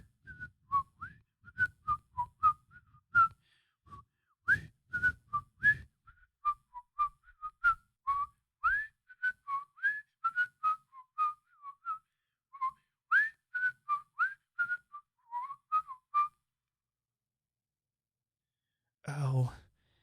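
A person whistles a long run of short, rising and falling notes in quick, uneven rhythm, close and clear for most of the stretch, then stops, followed by a brief breathy sound near the end.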